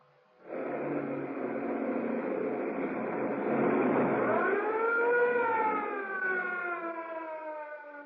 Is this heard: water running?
no